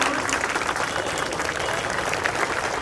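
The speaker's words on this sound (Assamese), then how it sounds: "আমি সকলোৱে এটা হাত চাপৰিৰে" Audience applause for a teacher at a higher secondary school event, dense continuous clapping from a crowd of many hands, steady and fairly close, with no talk.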